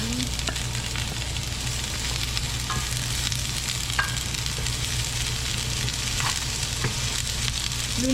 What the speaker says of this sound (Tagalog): Lalagay lamang po tayo ng konting mantika at atin po itong ipiprito